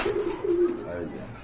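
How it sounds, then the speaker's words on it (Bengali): A female pigeon gives a few soft, low coos close by, a short burbling phrase and then quiet, heard on its own. "এই যে এটা হচ্ছে আপনার মাদি কবুতর"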